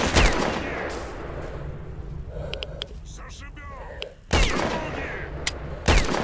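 A rifle fires in STALKER: Shadow of Chernobyl, with loud dense bursts at the start, a quieter stretch of small clicks in the middle, then two more loud bursts later.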